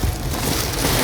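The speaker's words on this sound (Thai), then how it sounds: "ฝนตกมาแบบนี้" Rain falling outdoors in a steady, dense hiss of drops on surfaces, close and fairly loud, during a brief moment with no talk.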